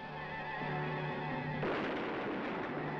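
Gunfire from a 1951 gorilla horror film: a sudden loud burst of shooting that cuts in partway through and keeps roaring steadily over a droning tonal background.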